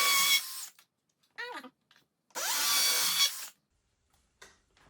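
Electric power drill boring into wood leftovers in a workshop, two loud bursts of whining motor with bit chatter separated by pauses, plus a brief squealing spin-down between them.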